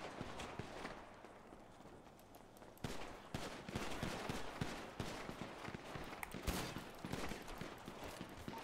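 Pistol gunfire in a GTA roleplay shootout: a dense, ragged series of sharp shots and cracks, fairly steady throughout with no talking, set against a busy game background.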